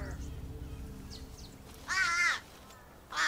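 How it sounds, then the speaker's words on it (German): Crows give a burst of excited, harsh cawing partway through, loud and close, over a low rumbling background, with another call starting at the end. "David hat aufgeregtes Krähengeschrei gehört"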